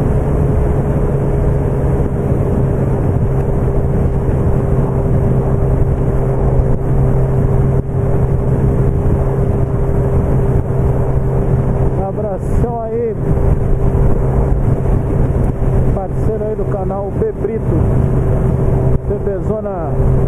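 A motorcycle rides along a road returning toward Macaé and overtakes, its engine a steady loud drone with wind rush and brief passing swells of other vehicles, under a voice talking.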